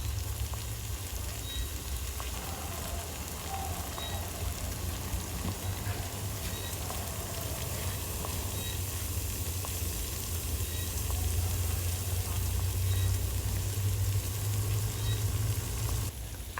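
Wild mushrooms cook in a pot outdoors, giving a steady, faint hiss and bubbling sizzle that stays even throughout, with a low rumble underneath and no voices.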